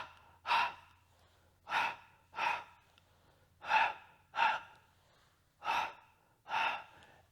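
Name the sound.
percussive Pilates breathing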